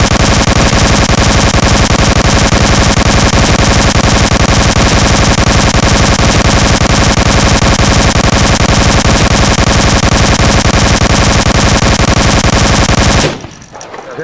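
Sustained, loud automatic gunfire from a video game weapon fires without a break, a dense rapid rattle that suddenly stops near the end as the ammunition runs out.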